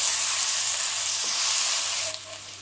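Sliced garlic, ginger and green chillies sizzle steadily in a hot pan for a bitter gourd roast, a close, loud, continuous frying hiss that eases slightly near the end, with no voices.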